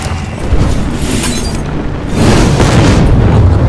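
Arcane Explosion spell in Hearthstone going off as a loud, deep magical boom with a rumbling blast that swells again after a couple of seconds, heavy and close.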